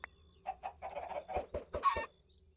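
Minecraft chickens on a small in-game chicken farm give a quick run of clucks, about eight short close bursts in an uneven rhythm, each note clear against near silence.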